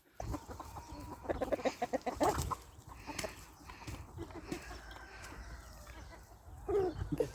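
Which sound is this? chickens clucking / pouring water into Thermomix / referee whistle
chickens clucking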